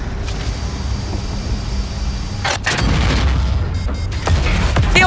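In the tank video game Project CW, explosions and gunfire destroy a helicopter. Loud rumbling booms and sharp bursts of fire sit over a constant low battle roar, with cracks around the middle and again near the end.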